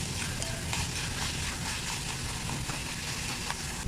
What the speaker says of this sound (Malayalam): നന്നായിട്ടൊന്ന് മിക്സ് ചെയ്ത് കൊടുക്കുക കേട്ടോ.